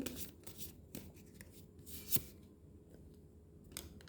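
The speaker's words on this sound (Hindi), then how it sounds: "मैं थोड़े से कार्ड निकाल लेती हूँ।" Tarot cards drawn from a deck during a reading, with soft papery shuffles and rubs and one sharper flick, close but faint against a quiet room.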